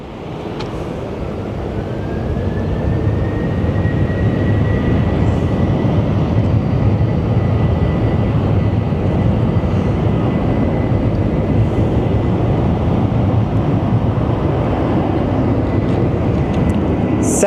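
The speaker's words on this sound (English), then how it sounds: "There's a plane above me." Airplane passing overhead near Phoenix Sky Harbor airport, a loud, sustained broadband engine roar that swells in the first few seconds and then holds steady, with a faint rising whine.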